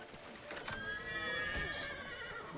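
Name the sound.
horse neighing in The Witcher 3 video game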